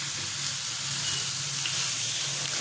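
Water hits a pan of frying prawn and dhoka curry with ground cumin, coriander and garam masala, giving a steady, close, loud hiss and sizzle with no voices.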